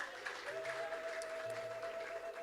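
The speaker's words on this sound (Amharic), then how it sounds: "አጨብጭቡ ለዚህ ጌታ ክብር ስጡ።" Congregation in a church clapping in a sustained, even patter throughout, moderately distant with a steady hum beneath.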